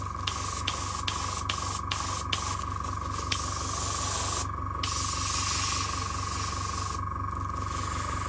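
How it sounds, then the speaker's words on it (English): A clogged airbrush sprays paint onto custom Bape sneakers with a continuous close hiss, broken by brief sputtering bursts and short pauses as the spray stops and restarts, with no talking. "Should have cleaned this airbrush before I started this."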